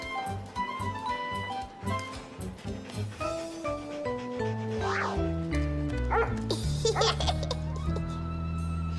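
Playful dog barks and yips pop out repeatedly over steady, cheerful music, close and fairly loud, with a brief whimpering note near the middle.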